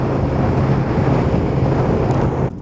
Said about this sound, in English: Big gusts of wind just taking the bike.